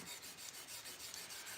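A sword edge is touched up on a sharpener, producing a soft, even rasping stroke repeated quickly at close range.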